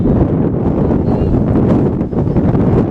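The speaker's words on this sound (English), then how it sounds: "this wind is picking up dramatically here" Strong gusting wind at an outdoor softball field roars across the microphone, a loud, steady rumble with buffeting swells and no clear voices.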